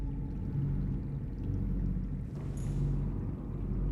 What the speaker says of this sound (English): while you're in this housing, you might notice a constant whirring sound